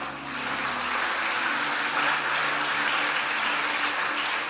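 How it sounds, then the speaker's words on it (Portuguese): Church congregation applauding together in a small home-cell worship gathering, a dense, steady wash of clapping that stays loud and even throughout with no talk over it. "Dá um aplauso ao Senhor."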